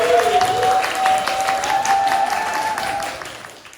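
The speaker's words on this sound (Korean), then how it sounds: "박수로 모시겠습니다." Audience clapping to welcome a speaker at a Busan lecture seminar, a steady round of applause fading gradually toward the end, with a faint tonal whine of feedback running underneath.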